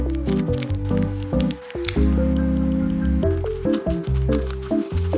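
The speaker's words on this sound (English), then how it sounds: "drained the water and now it's time to add the sauces" Buldak spicy sauces squished and stirred through drained ramen noodles: wet, sticky squelching and slurping sounds in quick bursts, close up, with no talking.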